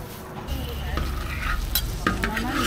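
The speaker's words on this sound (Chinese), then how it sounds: "这是小火慢煎的" Dough is pan-fried slowly over low heat at a Wuhan street night-market stall, giving a steady close sizzle with scraping and stirring noises partway through.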